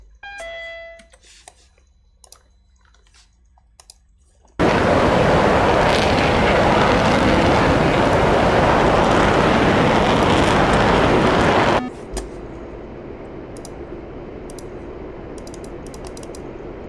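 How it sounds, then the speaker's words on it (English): A jet aircraft in a combat flight video game makes a close, loud flyby: a sudden, sustained roar lasting about seven seconds that cuts off sharply into a steadier, quieter background hum. "Tried to give you a good flyby."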